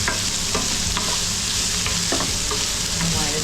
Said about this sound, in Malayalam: ഉള്ളി ഇച്ചിരി കൂടുതലിട്ടോണം ഒന്ന് അരിഞ്ഞിടുക. അത് കഴിഞ്ഞ് ലാസ്റ്റിൽ ഇതിനെ ഒന്ന് വഴറ്റുക.